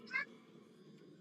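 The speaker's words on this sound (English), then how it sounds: "Come on, put the cat down." A Minecraft cat gives one short, clear meow at the start, followed by a low background hum.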